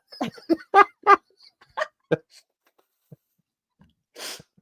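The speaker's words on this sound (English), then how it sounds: "I finally sneezed." A single sharp sneeze near the end, close and abrupt, following a stretch of quiet breathy vocal sounds.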